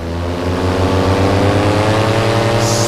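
A Tornado 280 XC paramotor engine runs close and loud, its steady drone rising slightly in pitch as the throttle is smoothly increased, with a hiss creeping in near the end.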